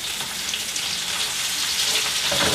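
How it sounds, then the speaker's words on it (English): Onions slow cooking in leftover halibut grease in a pan give a steady, close, hissing sizzle that holds evenly throughout with no talk. "in the grease that we currently already have here, that we just sauteed the fish in, we want to slow cook these onions"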